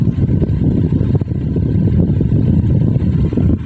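Repaired rechargeable electric fan running at maximum speed, a loud, steady, close-up whirring rush of blades and air that holds constant throughout before cutting off near the end.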